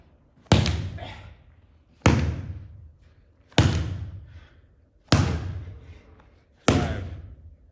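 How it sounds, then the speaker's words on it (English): A heavy ball slammed onto a gym floor five times at a steady pace about every second and a half, each hit a loud, close thud with a short ringing decay and no talking. "7 ball slams."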